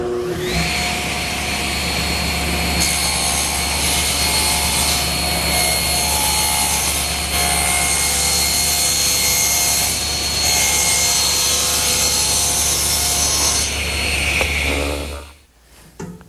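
A table saw rips a thin strip off a wooden board edge to straighten it, a loud continuous whine with brief changes in load as the wood feeds through, ending with the motor cutting off abruptly.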